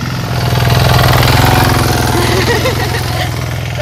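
Engine of a tractor ploughing a village field in Uttarakhand, a steady loud chugging drone with a rhythmic mechanical pulse, close by throughout, with faint background noise.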